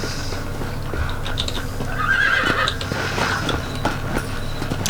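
Horses in the Red Dead Redemption video game whinny and neigh over a steady rumble of hooves, with the loudest calls near the middle of the stretch and continuous clip-clop trotting throughout, no talk.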